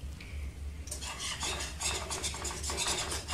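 All-purpose flour being stirred into melted butter in a pan gives steady scraping and rubbing strokes from a utensil against the metal, close and continuous for a few seconds with no voices.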